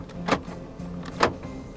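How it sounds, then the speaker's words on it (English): Central locking on a 2014 Toyota Camry 2.0 G actuates twice, two short, sharp mechanical clunks about a second apart in a quiet cabin. "Central locking"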